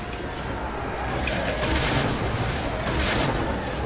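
Enemy gunfire in the video game Star Wars The Force Unleashed, a dense continuous barrage of booming shots and blasts, loud and steady throughout with no clear talking.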